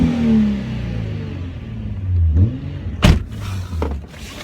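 A 2005 Nissan 350Z with a Milltek exhaust idles with a low rumble, then revs up sharply and drops back, with a clunk partway through; loud and close, no talking.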